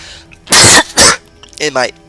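Two harsh, loud coughs in quick succession, then a short voiced throat-clearing sound, all close to the microphone.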